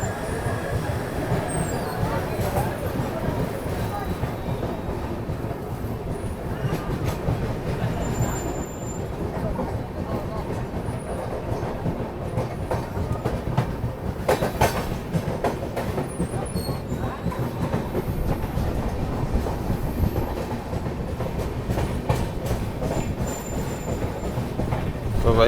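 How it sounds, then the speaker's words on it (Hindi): The Vikramshila Express rolls out of Ara Junction in India, heard from inside the carriage as a steady rumble with rhythmic wheel clatter and occasional squeals, continuous for the whole stretch, with faint voices in the background. "फाइनली 2 मिनट के स्टॉप के बाद में अपनी ट्रेन निकल चुकी है आरा जंक्शन रेलवे स्टेशन से"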